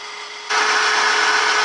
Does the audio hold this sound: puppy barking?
no